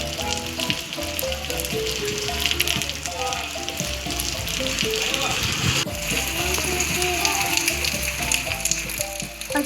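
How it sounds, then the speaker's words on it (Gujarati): Light rain patters outdoors in an unseasonal summer shower, a constant crackling hiss of drops close by, with scattered louder taps and faint tonal background sounds. "અત્યારે વરસાદ ધીમો ધીમો આવે છે।"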